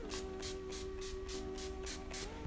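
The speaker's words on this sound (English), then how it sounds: "I'll just go in with the NYX Dewy Setting Spray." NYX Dewy Setting Spray misted from a pump bottle in a quick series of about seven short, even hissing bursts, close to the microphone over a faint steady tone.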